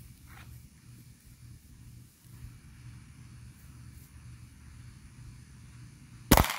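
A gunshot is fired at a Seagate 10TB IronWolf hard drive outdoors. After several seconds of low, quiet background rumble, one sudden, very loud sharp crack bursts out near the end.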